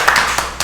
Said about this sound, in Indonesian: Tepuk tangan untuk ketiga orang narasumber.